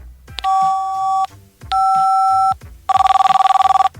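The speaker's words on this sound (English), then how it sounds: "That first thing, though, that was just a 90s cell phone sound." A 1990s cell phone ringtone: two long steady electronic trill rings with short gaps, followed by a rapid pulsing warble, clear and close.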